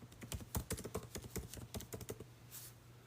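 Quick bursts of typing on a computer keyboard, a close, quiet run of irregular key clicks lasting a few seconds with no voice over it.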